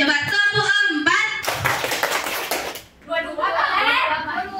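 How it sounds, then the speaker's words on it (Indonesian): A group claps in a two-two pattern in a counting game, a loud dense flurry of claps in the middle framed by talking before and after. "Polanya dua-dua ya. Coba tepuk 4,"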